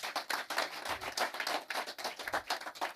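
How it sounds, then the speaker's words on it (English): An audience at an empowerment forum claps hands in a steady, fairly close stream of crisp claps lasting throughout, with no talk over it. "Give a hand clap again."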